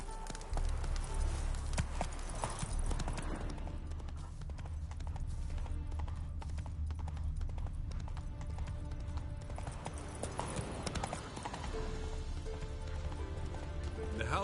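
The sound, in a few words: horse trotting, from the video game The Witcher 3: Wild Hunt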